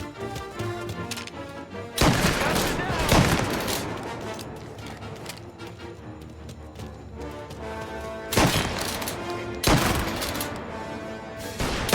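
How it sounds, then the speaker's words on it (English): Bursts of gunfire crackle over a loud, dense soundscape from the game Mafia, with sharp volleys around the start, middle and near the end. "Gunshots heard. Please respond."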